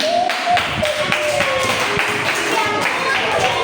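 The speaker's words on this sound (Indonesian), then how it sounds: "beri tepuk tangan untuk Habibi" A classroom of pupils claps for a student group during a teaching-practice lesson, a steady mass of close hand claps with some talking in the room underneath.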